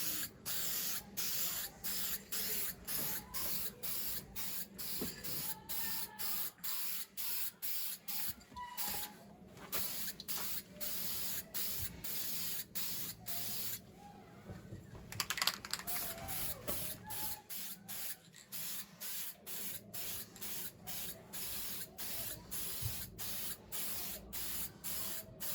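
Smooth coats of spray paint go on in a long run of short, regular hissing bursts from a spray gun, each separated by a brief gap, with a longer pause partway through.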